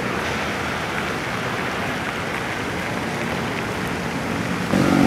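Heavy rain pours during a motorcycle ride, a dense, steady roar of drops and wind rushing past close to the rider, with the engine blended underneath and a slight swell at the end.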